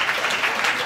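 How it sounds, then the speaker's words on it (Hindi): Church congregation clapping together in thanks during a sermon, a dense, steady patter of many hands filling the short moment. "ताली बजाकर प्रभु का धन्यवाद करेंगे।"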